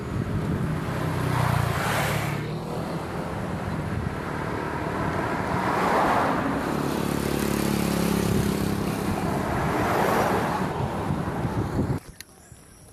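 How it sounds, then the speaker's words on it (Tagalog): Fast cars passing on a road, heard from the roadside while walking outdoors, a steady broadband roar of traffic with swells as vehicles go by and wind buffeting the microphone, ending abruptly in near-silence. "Mga mabibilis ang sasakyan dito."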